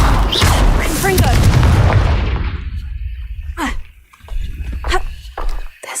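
The Confringo fire spell in Hogwarts Legacy goes off as a loud, rumbling explosive blast that fades over about two seconds. Sharper whooshing hits follow, and a voice may be heard over it.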